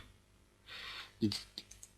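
Keys are typed on a computer keyboard at a Windows 7 command prompt: a short burst of keyboard noise, then a few separate, fairly close clicks.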